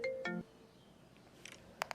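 A phone rings with a short melodic ringtone, a clear tone followed by a brief chime, then quieter clicks and two sharp taps; an incoming call from a brother, heard close and alone.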